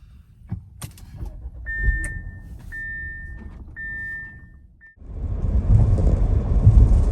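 An Audi running with cruise control and sign recognition, heard from inside the cabin: low road rumble and a few clicks, a repeating electronic chime, then a louder surge of tire and engine noise as the car gathers speed.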